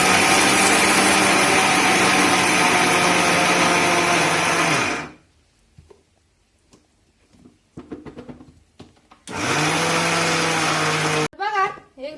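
A mixer grinder grinds peanuts and jaggery for fasting laddoos, running loud and steady for several seconds, stopping, then whirring again in a shorter burst; brief talk and rustling fill the quiet gap.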